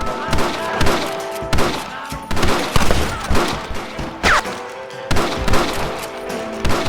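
Repeated loud gunshot bursts in the video game Red Dead Redemption on PC, aimed at snipers in windows, come in rhythmic volleys every second or so, with shouting voices mixed in.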